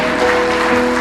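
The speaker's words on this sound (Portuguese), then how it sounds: "Aplauda o Senhor Jesus Cristo." A church congregation applauding together, a short burst of steady, dense clapping filling the room.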